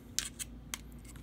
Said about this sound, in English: And then I typically will just take like scissors